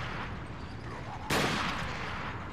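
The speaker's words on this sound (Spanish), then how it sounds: "Voy a pegarle un par de tiros" A burst of gunfire aimed at enemies in the survival horror game Resident Evil 4, one sharp loud shot cracking out over a dense, noisy in-game background.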